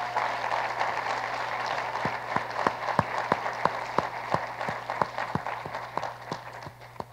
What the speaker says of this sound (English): Please join me in giving our academic leaders a round of applause.